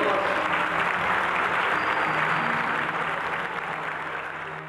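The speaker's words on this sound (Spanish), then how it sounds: "Un aplauso para nuestro Dios." A church-style congregation at a community peace gathering claps loudly and continuously, a dense wash of applause that slowly fades in the final seconds.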